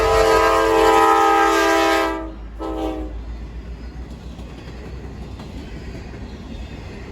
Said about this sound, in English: the first gravel train of the season ran this Monday morning